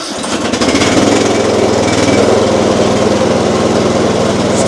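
A new lawn tractor engine, started with the choke on, catches within a moment and then runs loud and close with a steady, rapid chugging throb.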